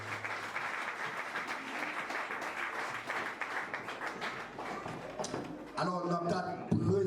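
A church congregation at an anniversary service breaks into sustained applause, a dense patter of clapping that continues under an amplified voice speaking, with louder bursts near the end.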